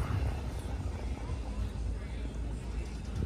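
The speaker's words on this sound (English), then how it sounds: "here comes our plane. Coming to pick us up." An approaching airplane arriving to pick up passengers in Destin, Florida, a steady broadband roar with low rumble that holds at a constant level under faint background speech.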